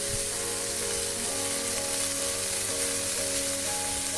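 Ginger garlic paste and onions sautéing in a pan, giving a loud, dense, continuous close-up sizzle that stays even throughout, with no talking.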